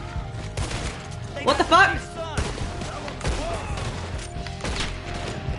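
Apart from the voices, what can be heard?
gunshots in video game Red Dead Redemption 2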